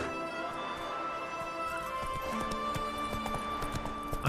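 Roach the horse from The Witcher 3 clip-clops along in a steady hoof rhythm, mid-distance and moderately loud, with sustained game music tones running throughout and a brief whinny-like burst near the end.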